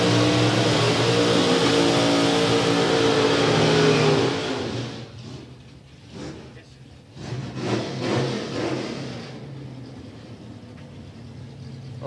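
Super Street class drag race cars at a strip: a loud engine roars steadily for several seconds, then drops away, leaving revving bursts and a commentator talking over the track noise.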